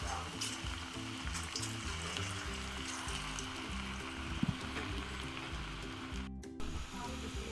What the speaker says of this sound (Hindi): तो ये हम पकौड़े फ्राई कर रहे हैं, गरम ऑयल हो गया हमारा